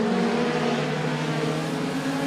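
Mini mod race cars at Clarksville Speedway roll off in a heat race, their engines droning together in a steady, sustained hum with no break, fairly distant and even in level.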